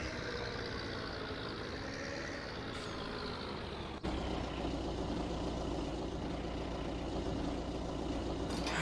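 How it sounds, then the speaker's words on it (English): A tractor engine in the video game Farming Simulator 17 drones steadily at a low idle-like rumble while planting spring barley, shifting to a heavier, louder tone halfway through and continuing unbroken. "That is an awesome sounding tractor."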